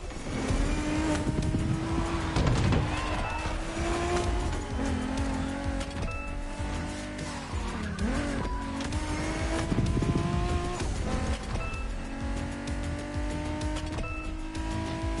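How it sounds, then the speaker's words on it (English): A BMW Z4 M40i roadster in the racing game The Crew Motorfest drives continuously with a loud, sustained engine note that rises and falls through gear changes, with occasional tire squeal, and no talking. "We have prepared a classic for you from a very famous German brand, the BMW Z4 M40i."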